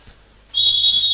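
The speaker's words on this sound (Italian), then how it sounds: "fischia in questo istante. Si ricomincia." Referee's whistle in an Italian Serie A2 roller hockey Coppa Italia match, a single sustained shrill blast that starts abruptly and holds steadily, loud and clear over quiet arena background.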